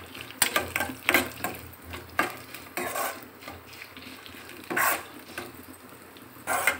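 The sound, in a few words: stirring frying ingredients for coconut rice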